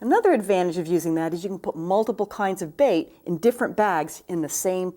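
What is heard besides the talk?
No everyday noises stand out.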